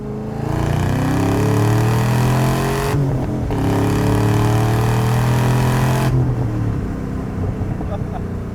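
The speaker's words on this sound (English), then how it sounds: "a big heavy muscle car with a massive engine and noise that'll just rock your eardrums off" A 580 HP Camaro ZL1 engine revs up and down in long pulls with a raw, unmuffled muffler-delete exhaust roar, loud, throaty, close by and dominating.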